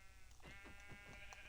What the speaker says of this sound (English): I'm gonna kill off the one sheep that's in here